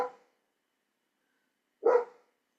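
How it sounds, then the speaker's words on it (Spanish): A dog barks twice indoors during a lecture: one short bark at the start, then a louder, fuller bark about two seconds later, with silence between and no talking. "Uy, este perro no se queda nunca callado."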